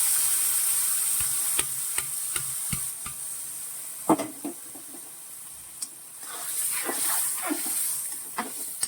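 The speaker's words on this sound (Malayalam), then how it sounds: "നമുക്ക് ഇതേ ബീഫ് ഇതിനകത്തോട്ട് ഇട്ട് കൊടുക്കാം" Cooked beef is stirred through a thick masala in a hot pan, the spoon scraping in sharp repeated strokes over a steady sizzling hiss of frying.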